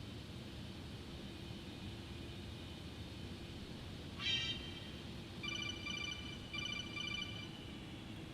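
A phone ringtone chirps in short bright bursts, one brief ring then two longer trilling ones, over the steady roar of an MD-11F freighter cockpit in X-Plane 11.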